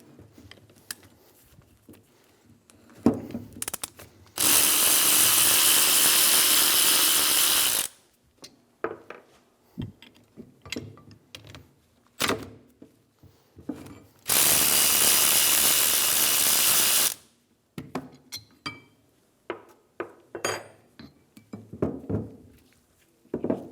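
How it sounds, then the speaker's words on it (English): A ratchet fitted with a 14mm socket loosens the brake caliper bolt on a 2013-2017 Honda Accord, giving two long runs of rapid close clicking amid scattered clanks and taps of tools on metal. "Using a 19mm socket, I'm going to hold the slide pin while using a 14mm socket to remove the caliper bolt."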